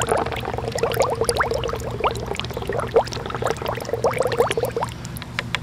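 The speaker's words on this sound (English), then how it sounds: "by adding oxygen to the water, we're going to create more surface area." Air pumped into water bubbles and churns in a loud, continuous turbulent gurgle with rapid irregular pops close by, part of an oil spill cleanup setup, with no talk.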